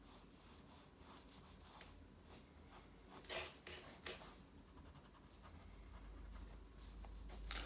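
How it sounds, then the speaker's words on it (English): Soft dark indigo blue Faber-Castell pencil scratching across paper while sketching a car, a quiet steady rasp of short strokes with brief louder scrubbing passes, close and alone. "indigo blue, dark indigo blue color, soft pencil, Faber-Castell"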